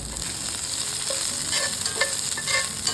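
Finely chopped onion sizzles in a hot pan with chana dal while being stirred, for a steady close frying hiss with light scraping strokes and no voices.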